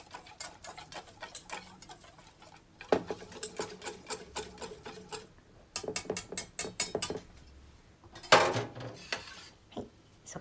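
Lotus root pancake batter being stirred in a bowl after 80 ml of water goes in, with rapid clicking and scraping of utensil against the bowl coming in bursts, close and fairly loud, without talk.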